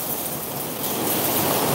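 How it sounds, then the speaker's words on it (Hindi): Heavy rain pouring down in a steady, loud, dense hiss that builds slightly, with no voices. "बहुत तेज बरसात है।"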